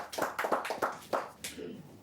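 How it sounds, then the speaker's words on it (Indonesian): A small group claps for Angie Carvalho during a studio talk show, a short burst of distinct close hand claps that quickly tapers off. "Tepuk tangan dulu semuanya buat Angie"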